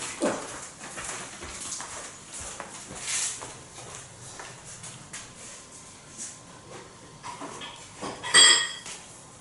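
A spoon is fetched from among dishes and cutlery, with scattered light clinks and clatters of metal on crockery and a sharper jangle near the end, fairly quiet and close by.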